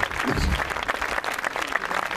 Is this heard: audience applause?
yes